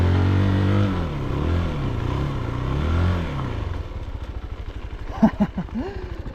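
A CFLite Dual 250 dual-sport motorcycle revs hard as its rear wheel spins, a loud rising engine whine that drops to a rough, pulsing idle, with a couple of sharp clattering bursts near the end.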